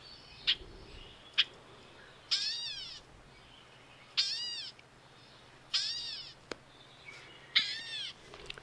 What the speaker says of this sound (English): You may notice the gray catbird.